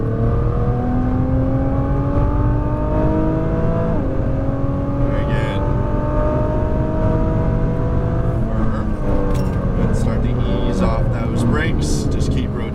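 Nissan GT-R engine pulling hard out of a corner, pitch sweeping up through the gears with steady loud drone and brief shift dips, heard from inside the car under a driver's running commentary.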